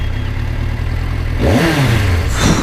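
Kawasaki Versys 1000 inline-four motorcycle engine cranking and firing up, a low rumble rising into a brief rev after steady background noise, close and fairly loud.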